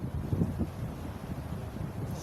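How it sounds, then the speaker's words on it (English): Wind buffets the microphone outdoors during a yoga workout, a low rumbling, gusty noise that stays steady and close throughout with no talking. "Oh, it's windy."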